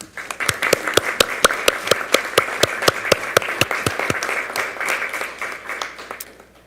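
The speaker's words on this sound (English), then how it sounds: "So we're going to give them a nice round of applause" Sparse applause from a handful of attendees at a school board meeting honoring teachers, with distinct sharp claps in a loose rhythm that thin out and fade over several seconds.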